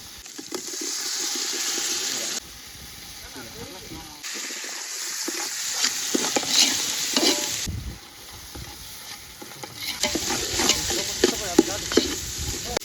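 Tomatoes sauté in a pan for village-style crab gravy, sizzling loudly while being stirred and scraped, with bursts of stirring in several separate stretches.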